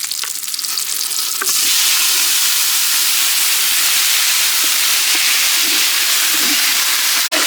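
Loud, close sizzling and crackling as country chicken hits a hot pan, a sustained hiss with occasional clinks of a utensil stirring.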